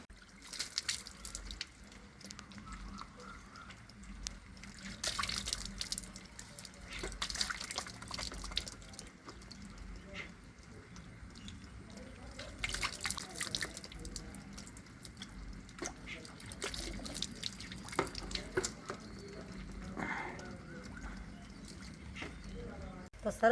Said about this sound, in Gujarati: હવે આને ઠંડા પાણી આપણે ધોઈ નાખીશું.